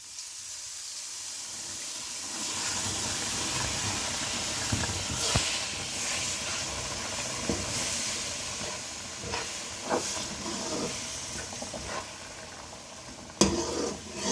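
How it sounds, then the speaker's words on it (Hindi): Milk poured into hot halwa made with jaggery hisses and sizzles loudly in the pan. A spoon stirs it with scraping taps close up, and the steady steam-like hiss carries through to the end. "अब हम इसमें डाल देंगे 1 कप दूध।"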